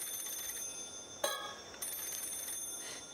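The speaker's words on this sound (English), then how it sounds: "If it stops ringing just before I pick it up, then that's just fate, right?" A telephone ringing in the video game Paranormasight: The Mermaid's Curse, heard as bright, sharp electronic ring bursts over a steady humming background, with no one talking.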